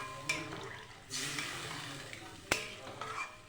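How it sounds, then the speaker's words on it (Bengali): Egg curry being stirred in a pan after water is added, soft scraping and liquid swishing with a couple of sharp utensil clinks against the pan, faint and close. "নাড়াচাড়া দিয়ে নিচ্ছি আমি ভালো করে।"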